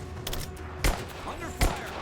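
Two heavy gunshots crack out about a second apart in the Tomb Raider video game, loud and close over a steady low rumble of game ambience.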